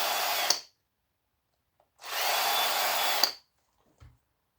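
Power drill unscrewing small screws from scrap circuit breakers: two loud, steady whirring bursts, the first about half a second and the second about a second and a half, each ending abruptly with a brief click, separated by silence.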